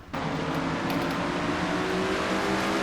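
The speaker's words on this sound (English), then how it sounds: "You're on board with Keith Batson in car 88, the Ford Quality Care Taurus" A 2000 Ford Taurus stock car, number 88, in a racing video game at the STP 500, its engine droning steadily and close at high revs throughout, with no talk.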